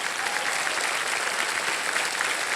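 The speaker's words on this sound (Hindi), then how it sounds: "तालियां बज जाएं जोरदार।" Studio audience on a Hindi TV quiz show applauds loudly and evenly, a thick, steady wash of clapping with no break and no clear voices over it.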